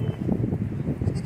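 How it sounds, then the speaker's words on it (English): Several goats at a mini zoo in Puerto Nuevo, Baja, Mexico, bleating low and close, overlapping in a murky cluster against outdoor rumble. "I'm here with the goats and they are surrounding me."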